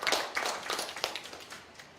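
Scattered clapping from an audience at a political party launch, moderately quiet and uneven, a handful of hands tapping out irregular claps that thin out toward the end.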